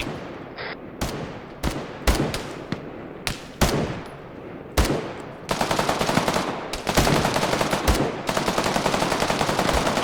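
Machine gun fire in a video game bursts loudly, starting as scattered single shots and quick bursts, then turning into long, rapid, sustained automatic fire.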